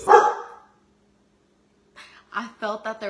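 A dog gives a short burst of loud, close barking at the start, then falls quiet before a person begins talking.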